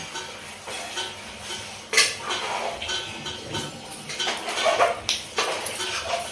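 Carom seeds being crushed by hand for pakora batter, heard as a string of close clinks and scrapes of a utensil against a metal dish, with sharper knocks standing out among them.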